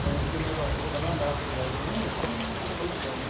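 Rain falling steadily, a dense even hiss of drops on surfaces, moderately faint and continuous throughout, with some faint voices in the background.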